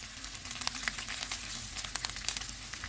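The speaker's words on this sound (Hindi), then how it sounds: "चिकन को मैंने अच्छी तरह भून लिया है। अब इसमें धनिया डालेंगे," Chicken sizzling in a pan with coriander added, a steady close frying crackle with scattered sharp pops and spits throughout, no voices.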